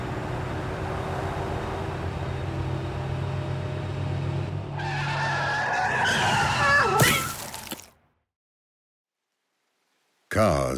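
A car skids on a road with tire screech and a crash-like shatter at the end, heard over steady engine and road noise, then sudden silence before a brief loud return.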